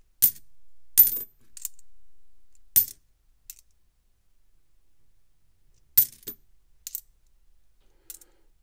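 Australian $2, $1 and 50c coins dropping onto a hard surface during a coin roll search: sharp, close metallic clinks in scattered bursts, some quickly doubled, with quiet gaps between.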